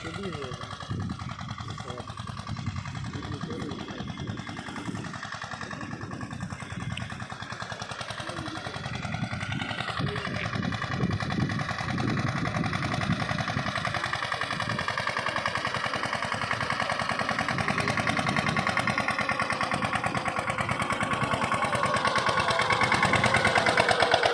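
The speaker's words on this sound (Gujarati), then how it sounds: "તો આ રીતનું આપણું કંઈક હાલે છે ટ્રેક્ટર।" A tractor engine chugs steadily on a farm, a loud, continuous rhythmic rattle that builds slightly toward the end, with a voice talking over it.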